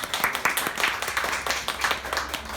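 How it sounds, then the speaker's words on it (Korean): An audience at an evening talk-and-lecture event claps briefly, a short burst of uneven hand claps from a modest crowd at close range. "박수 한번 주세요."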